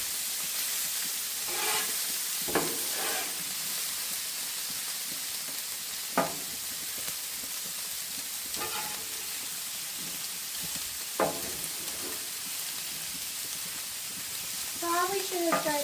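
Sausage sizzles in a frying pan with a steady, fairly quiet crackling hiss. Occasional light clinks and brief bits of voice break through.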